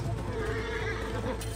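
A horse whinnies over the pounding of galloping hooves in the video game Assassin's Creed Origins, a busy, loud mix of animal calls and hoofbeats.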